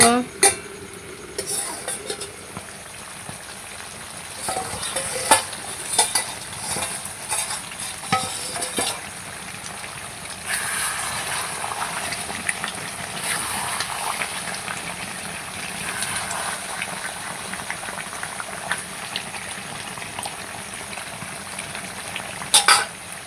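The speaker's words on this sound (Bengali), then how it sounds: "ঢেকে ঢেকে মাংসটাকে কষাবো" Chicken meat sautéing and being stirred in a pan, with steady close sizzling and scraping strokes throughout; a voice speaks over the cooking now and then.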